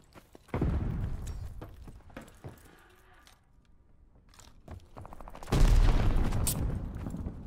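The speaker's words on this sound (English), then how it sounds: "Stun grenade out!" Stun grenade blasts in the video game Call of Duty: Vanguard, two heavy booms with a sharp onset, one early and a louder one later, separated by quieter scattered battle noises and faint shouted voices.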